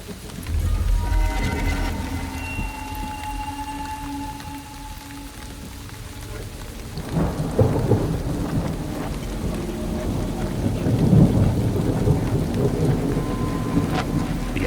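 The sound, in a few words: thunderstorm with heavy rain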